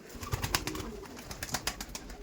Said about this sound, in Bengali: আর এই দেখুন মাদিরা দেখুন, ব্যাপক ব্যাপক পায়রা।